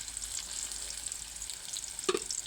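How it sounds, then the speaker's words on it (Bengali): Green chillies and chilli powder fry lightly in a pan with a steady, fairly quiet hiss, plus a brief clatter near the end. "আর এই যে এটাকে আমি হালকা একটু ভেজে নিচ্ছি"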